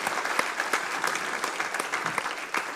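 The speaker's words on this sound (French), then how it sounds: "On peut l'applaudir" Steady audience applause fills an official opening ceremony marking forty years of Ville & Banlieue, dense clapping holding at an even level throughout with a few sharper individual claps standing out.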